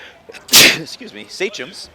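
A single sharp sneeze bursts out at a high school basketball game between Westwood and Middleborough, loud and close, with talk on either side of it.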